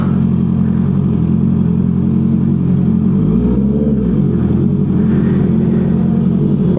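Many motorcycles idle and rev outside a motorcycle service shop, giving a steady, loud low engine rumble with one engine rising and falling in a brief rev partway through.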